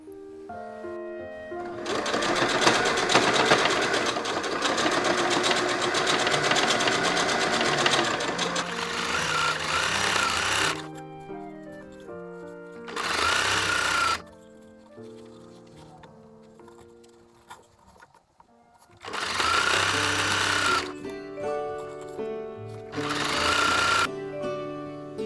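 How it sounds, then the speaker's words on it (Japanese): A domestic sewing machine stitches bias tape onto the hem of a child's skirt sewn from fabric scraps, running in loud, sustained bursts separated by short pauses. "スカートの裾にさっき作ったバイアステープを縫い付けていこう。"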